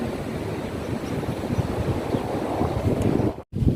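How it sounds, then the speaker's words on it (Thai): Wind buffets a microphone outdoors along a roadside walking path, a steady loud rumbling roar that continues with no talk until a brief dropout near the end. "ลมลมลม"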